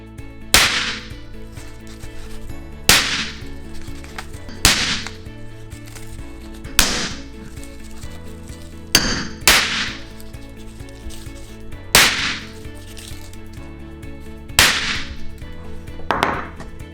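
A series of loud, sharp cracking bangs as a hammer strikes giant caps, about seven of them, spaced a couple of seconds apart, each ringing out briefly with no talking.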